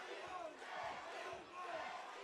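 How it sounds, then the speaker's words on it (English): An arena crowd chants a fighter's nickname during a fight, a faint, distant, rhythmic roar of many voices that rises and falls. "Crowd chanting Jay-Z, Jeremiah's nickname."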